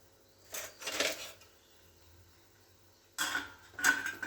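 Brinjal kara kuzhambu stirred in a pot with a spoon, two pairs of short scraping, clinking strokes separated by a quiet pause, fairly soft and close, with no voices.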